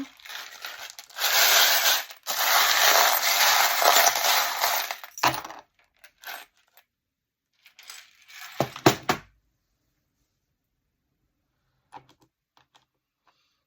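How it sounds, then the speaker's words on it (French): Divination charms are shaken and cast, giving a loud, sustained rattling jingle of small metal pieces for a few seconds, then scattered clinks as they settle, followed by near silence with a few faint ticks. "je vais regarder ce que les breloques nous disent"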